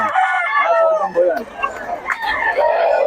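Chickens from market sellers in Taguig, with harmonic crowing and clucking close by, running continuously across the clip and mixed with people talking.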